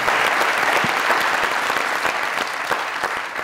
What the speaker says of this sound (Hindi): इनके लिए जोरदार तालियां और वेलकम।